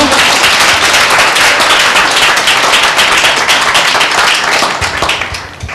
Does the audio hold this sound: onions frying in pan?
no